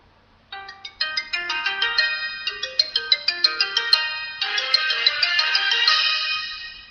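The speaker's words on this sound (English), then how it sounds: "Okay, now we'll go to ringtones, and these are what are stored into my phone." A stock AT&T mobile phone ringtone plays clearly and alone, a bright melodic run of plucked-bell notes that rises into a sustained, shimmering chord near the end.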